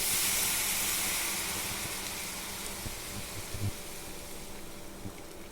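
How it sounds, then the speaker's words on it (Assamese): Boiling hot water poured into a pot while making boiled fish, a steady hissing, steamy rush that starts loud and gradually thins out, with a few faint knocks near the end. "এতিয়া মই পানী এমক দিছোঁ, উতলা গৰম পানী।"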